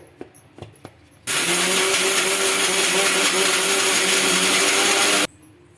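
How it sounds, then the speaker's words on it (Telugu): An electric mixer grinder whirs loudly and steadily for about four seconds as it grinds dried red chillies, green chillies and coriander seeds in its jar, with a few light knocks before it starts. "ఎండుమిర్చి, పచ్చిమిర్చి, ధనియాలు మొత్తం అయితే వేసుకుంటున్నానండి మిక్సీ జార్లోకి అయితే"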